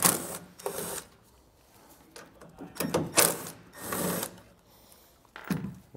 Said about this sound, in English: We'll pull them out using a T15 Torx bit.